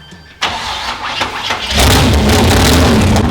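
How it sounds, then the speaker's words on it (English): A muscle car's engine cranks at the starter, then catches and fires up into a loud, steady rumble close by, with no voices over it. "We'll start it"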